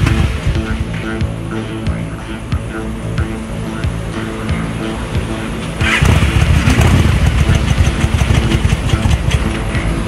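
A motorcycle engine idling very low after a cold start with the choke, running rough and uneven with irregular popping backfires that grow louder and denser partway through, close by.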